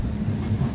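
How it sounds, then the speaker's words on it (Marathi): Adilabad–Parli passenger train pulling out of Purna Junction, a steady low rumble of rolling coaches with faint rhythmic wheel clatter, heard from on board, close and continuous, no voices. "तर 8:57 पूर्णा जंक्शनवरून आपली ट्रेन निघालेली आहे"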